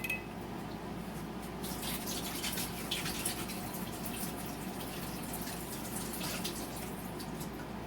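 Liquid steadily pouring and trickling as water drains from a can, a continuous wet splashing with small drips, close by and fairly quiet.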